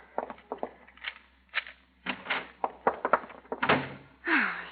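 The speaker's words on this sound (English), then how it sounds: "Get the door open fast." In a 1940s radio drama, a door is worked with a quick run of sharp knocks and rattles as the handle and latch move, then a heavier clunk and a creak as it swings open, heard up close.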